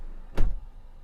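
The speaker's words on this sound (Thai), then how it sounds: "เห็นไหมเอาปิดประตูครับ" A Mazda CX5 car door shuts with a single short, close thump, followed by quiet.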